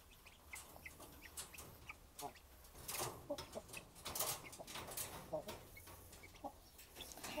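Guinea fowl call noisily in a farmyard among native chickens, with a continuous run of harsh, rhythmic chattering cries that rises and falls at moderate distance.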